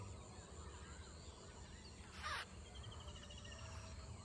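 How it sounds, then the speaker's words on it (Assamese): Birds call faintly around an Assamese village in the early morning, with scattered distant chirps and a brief louder squawk over a quiet outdoor hush and a soft insect-like drone, and no one speaking. "চাৰিওফালে চাওক না পুৰা চৰাই কান্দি আছে"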